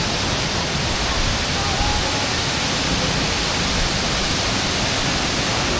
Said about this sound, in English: A very famous waterfall.